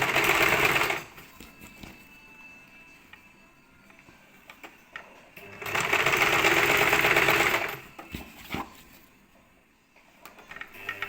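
A sewing machine stitches a folded petticoat hem in two sustained runs of steady mechanical whirring, the first at the start and the second in the middle, with quiet handling and clicks between them and no speech.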